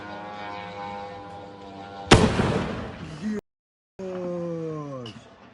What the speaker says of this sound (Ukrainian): Нас куда-то в нефтебазу, походу, дрон бахнул только что.